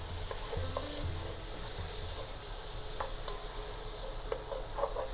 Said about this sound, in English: Gonna cook the onions for about a minute, and then I'm gonna add in both of the capsicum.